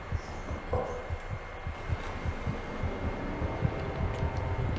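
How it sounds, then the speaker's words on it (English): A low, steady heartbeat thumps in an even rhythm over a faint hum, quiet and continuous, in the video game Among the Sleep. "Why is my heart beating?"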